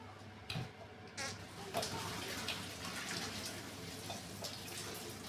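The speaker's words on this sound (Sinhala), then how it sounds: "දැන් පාස්තා එක පෙරාගමු මේ විදිහට" Water drains from boiled tortellini pasta, a continuous splashing, gurgling pour with a few drips, fairly quiet and close.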